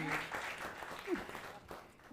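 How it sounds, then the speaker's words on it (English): An audience applauds guests taking the stage at a Politico panel event, a soft, moderately dense patter that carries on steadily and faintly through the moment. "Give them a round of applause."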